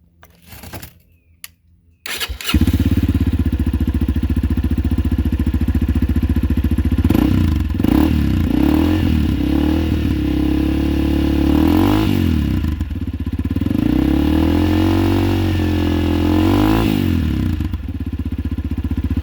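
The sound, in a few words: motorcycle with carbon fiber exhaust revving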